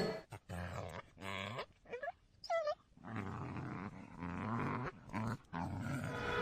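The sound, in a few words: dog growling and whimpering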